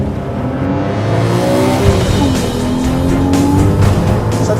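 A 2013 Porsche Boxster S launching hard down a drag strip, loud close engine roar rising in pitch through the gears with a brief tire chirp, no talking.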